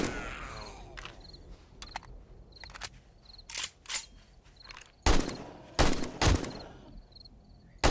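Gunfire in the survival video game 7 Days to Die: a string of sharp, loud shots fired irregularly, some in quick pairs, with quieter game ambience and faint beeps between them.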